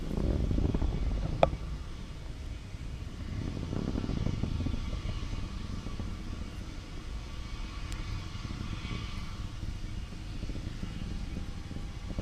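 A SpaceX Falcon 9 rocket climbing through max Q after liftoff from Vandenberg, heard as a distant, steady low roar with rumbling swells and a sharp click near the start, continuous throughout.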